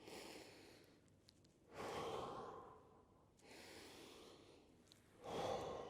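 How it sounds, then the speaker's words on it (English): Slow, deliberate breaths drawn in through the nose and pushed out through the mouth during a longsword lesson, two full cycles of airy inhales and louder rushing exhales, close and alone. "So you breathe in with the end through your nose, breathe out through your mouth."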